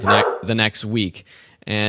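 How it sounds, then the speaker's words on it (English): A dog barks in the background in several short, sharp bursts, mixed in with someone talking close to the microphone. "excuse my dog barking in the background."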